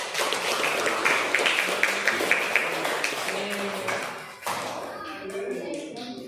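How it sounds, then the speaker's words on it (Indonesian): A classroom of people clapping together during a student-teacher practice lesson, loud and continuous, with children's voices mixed in and a brief dip before clapping resumes. "Beri tepuk tangan dulu kepada semua."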